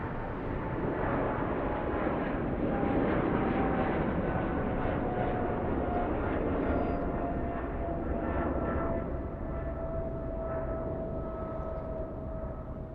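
A British Airways airliner departs LAX bound for Heathrow, a loud, sustained jet engine roar that swells and then slowly eases as it climbs away, heard alone without voices.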